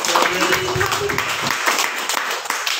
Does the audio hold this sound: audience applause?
yes